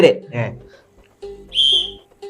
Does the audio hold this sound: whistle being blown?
yes